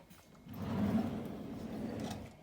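A kitchen drawer slides open or shut with a low rumbling glide lasting about two seconds, close and moderately quiet, with no talking over it.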